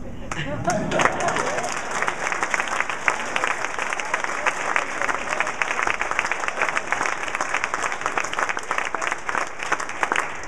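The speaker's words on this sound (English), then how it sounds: "I can tell by your applause" A crowd at a post office dedication ceremony in Mountain View bursts into loud, dense applause that begins abruptly and keeps a steady, even intensity throughout.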